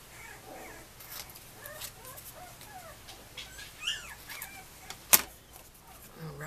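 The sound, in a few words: puppies barking and fussing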